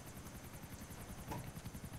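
Helicopter in the GTA 4 video game during a race, a steady rotor chop with rhythmic pulsing held loud and close throughout, no voices over it.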